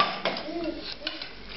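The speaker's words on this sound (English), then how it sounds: "Stir it gently so that you don't break up the cauliflower." Cauliflower florets gently stirred in a mornay sauce with a spoon against a pot, giving soft, brief scrapes and clinks at close range, no speech over them.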